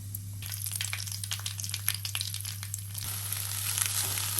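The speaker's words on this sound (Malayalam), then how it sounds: "നമുക്കിനി ഇതിലേക്ക് കറിവേപ്പില ഇങ്ങനെ ഇട്ട് കൊടുക്കാം." Curry leaves hit hot oil with mustard seeds and dried red chillies, bursting into a loud crackling sizzle of sharp pops that settles into a steadier hiss over a constant low hum.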